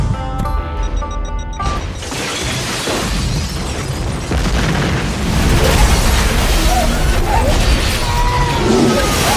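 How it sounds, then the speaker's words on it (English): Bomb blast at a church, a heavy roaring boom that cuts in after a short stretch of music and rumbles on as a dense, sustained wash of debris and crackling noise, loud and close. "Pastor Mejia's church was the target of a bomb attack"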